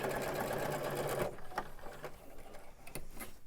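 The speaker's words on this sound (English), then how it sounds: "Stitch that across." A sewing machine runs in a fast steady whir as it stitches straight across a throw pillow, then stops, leaving a few light clicks and handling sounds.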